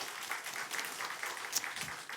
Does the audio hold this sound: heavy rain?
no